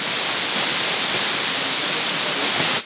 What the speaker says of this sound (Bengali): 3 থেকে 4টে সিটি দিয়ে নিচ্ছি